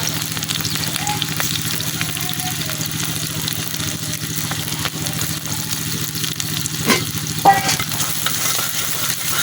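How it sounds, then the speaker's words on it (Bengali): Raw onion and green chili fry in hot oil in a wok, a steady close sizzle with occasional stirring scrapes over a constant low hum. "পেঁয়াজ মরিচটা কিছুক্ষণ ভাজা নিলাম"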